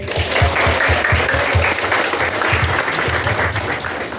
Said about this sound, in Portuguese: Vamos dar uma salva de palmas aí.